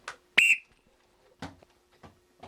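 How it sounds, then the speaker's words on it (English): A whistle blown to start a drill on a football pitch, one short sharp shrill blast standing out clearly, followed by a few faint quiet sounds in near silence. "Okay, on the whistle."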